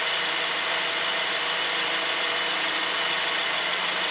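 A 2010 Honda Accord engine idles just after starting, giving a steady, even hum with a constant airy hiss and no change in level throughout.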